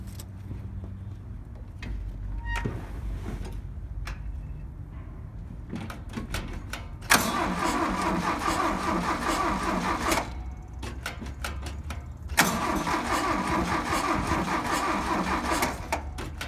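A car with a broken CV axle cranks, fires up and idles, then grinds and clatters as it drives, loud mechanical rattling bursts rising and falling over a steady engine drone.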